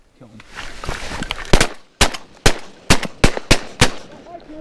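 Shotguns fire during a duck hunt for pintails, a rapid volley of about seven sharp, loud blasts with a voice briefly heard before the shooting.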